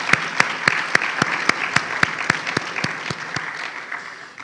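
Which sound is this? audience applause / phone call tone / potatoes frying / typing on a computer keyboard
audience applause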